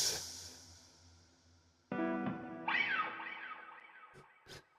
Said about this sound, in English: I've got so much reverb on. And delay.